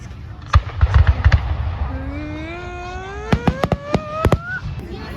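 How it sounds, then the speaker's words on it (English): Fourth of July fireworks going off: a few sharp bangs, a long rising whistle, then a quick cluster of loud cracking bursts, close and punchy against a low crowd murmur. "we're finally done with the fireworks"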